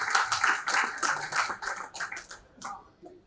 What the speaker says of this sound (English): Please give a huge round of applause for architect Ashutosh Kumar.